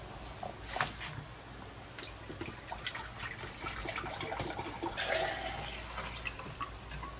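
Water splashing and trickling as it is poured, a steady liquid rush that swells midway, with no talking.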